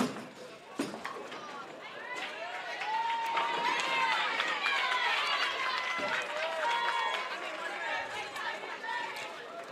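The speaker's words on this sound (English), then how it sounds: "You hear the cheer." Girls' team supporters cheer and chatter in a crowd at a high school state semifinal bowling match indoors, a steady lively din with whoops and shouts rising through the middle and lingering, voices mixed throughout.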